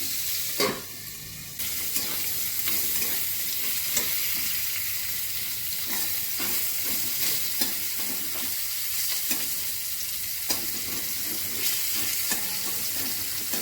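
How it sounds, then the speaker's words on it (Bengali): Bitter gourd fries in a pan with grated ginger, giving a steady, close sizzle broken by repeated scraping stirs of the spoon against the pan. "উচ্ছেটা একটু ভাজা হবে, ঢেকে দিচ্ছি।"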